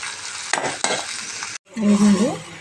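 Food frying in a pan with steady sizzling and stirring, loud and close, broken by a brief pause before a fresh burst of sizzle.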